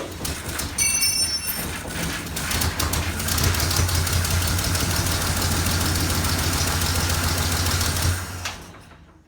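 A 1947 GMC truck engine, fitted with a new carburetor and with the choke on, cranks and then runs in a loud, steady, rough rumble nearby before dying away at the end.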